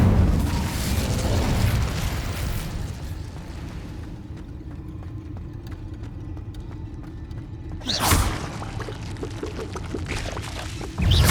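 A fire spell is cast in the Hogwarts Legacy video game, giving a loud, broad roaring whoosh of flame that fades into a low rumble, then another sharp flare near the end.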